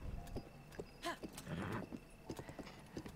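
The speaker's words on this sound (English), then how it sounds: "Just having a nice little leisurely ride with Panay. She's best horse." Hooves of a horse clip-clop in an open-world fantasy adventure video game during a leisurely ride, an even walking rhythm of soft distinct hoof hits, with a short whinny midway and faint talk underneath.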